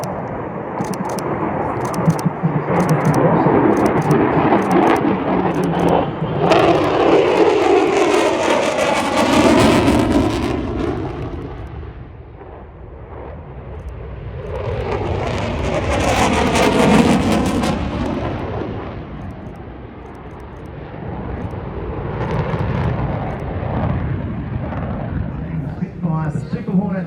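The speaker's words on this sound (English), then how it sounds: "The Super Hornet and the F-35 in formation together." A Super Hornet and an F-35 fly over together in formation at an air show. A loud, sustained jet roar builds and fades twice as they pass, and the rumble stays continuous underneath.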